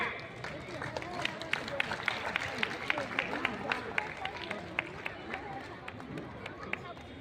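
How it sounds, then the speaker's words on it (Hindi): A crowd at a school art event claps in applause, a dense, steady spatter of hand claps lasting the whole stretch at moderate volume, with no voices over it. "तालियों का स्वागत करें।"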